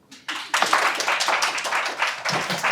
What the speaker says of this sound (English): This is the point normal people clap.